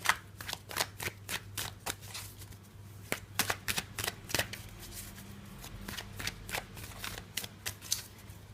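Tarot cards riffle and snap in a quick run of crisp, close flicks and slaps as the deck is shuffled and cards are drawn, with a low steady hum beneath.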